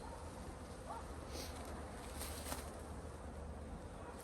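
Honey bees hum from an opened first-year beehive holding five or six frames of bees, a soft, steady drone that stays even throughout with no talking.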